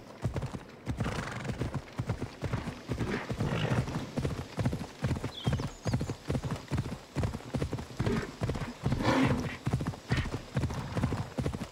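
Steady clip-clop of horse hooves at a gallop in the video game Assassin's Creed Odyssey, a rapid even rhythm close and loud throughout, with occasional whinnies and faint game ambience.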